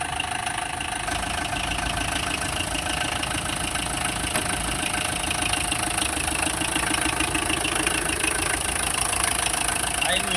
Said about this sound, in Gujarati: આ એનું એન્જિન છે